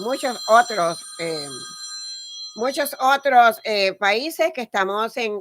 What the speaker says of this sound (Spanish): El teléfono siempre suena y disculpen el ruido del teléfono